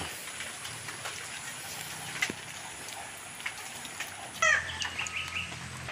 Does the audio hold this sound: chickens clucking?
yes